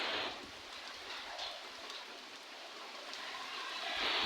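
Steady rain falls in a village on a wet morning, a close, even patter on surfaces with no voices.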